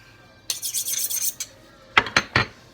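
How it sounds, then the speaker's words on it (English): A kitchen knife scrapes against a sharpener in a quick run of gritty strokes, then three separate, crisp swipes follow after a pause. The sound is close and fairly quiet, with no talking. "you're going to want to sharpen your knife very well"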